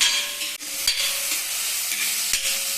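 Chopped onions frying in hot oil, a continuous close bright sizzle with a few brief stirring scrapes breaking through.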